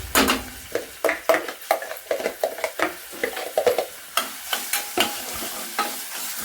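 Finely chopped onions fry in hot oil with ginger-garlic paste, a steady sizzle broken by rapid, repeated scraping stirs of a spoon against the pan, close and fairly loud with no voices.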